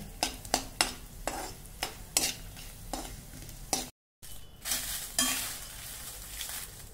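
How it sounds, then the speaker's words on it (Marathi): Asafoetida chunks frying in a little oil, with a faint sizzle under a series of sharp scrapes and knocks from a spoon stirring in the pan, followed by a longer, louder stretch of sizzling. "हिंग खडा कमी तेलामध्ये परतून घ्या।"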